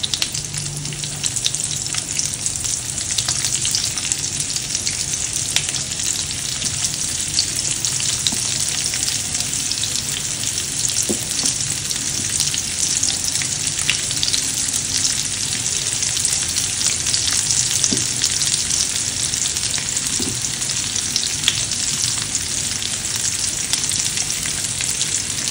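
Moringa drumstick pieces fry steadily in oil in a pan for a crispy spiced shevga fry, giving a loud, continuous sizzling hiss with a few faint clicks as pieces are placed.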